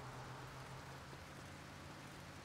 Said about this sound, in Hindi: बारिश हो रही है अभी